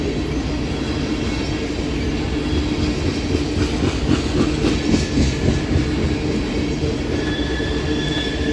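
A Norfolk Southern freight train with buffer cars and Southern hoppers rolling past at Elkhart, a loud steady rumble of wheels on rail with rhythmic clacking and a high steel squeal, no voices.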